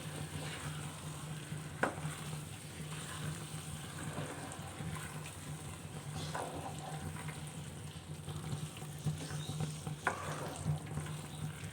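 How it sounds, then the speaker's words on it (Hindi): A spoon works through a mutton and potato curry after fresh coriander is added, making soft wet stirring and a low simmering bubble with an occasional faint clink against the pot. There is no speech. "हरा धनिया ऐड कर लेंगे और अच्छी तरह से मिक्स कर लेंगे"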